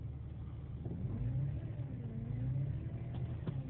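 A 2001 Jeep Cherokee XJ engine idles in neutral, giving a steady low rumble with a faint wavering tone riding on top, plus a couple of light ticks near the end.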